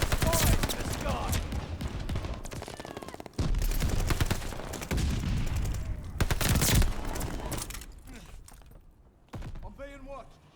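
Owen Gun submachine gun fire in video game gameplay: dense, loud bursts of rapid shots with brief pauses between volleys, under voices talking, tapering off toward the end.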